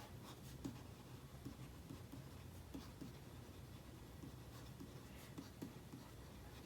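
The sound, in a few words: stylus scratching while writing on a reMarkable 2 tablet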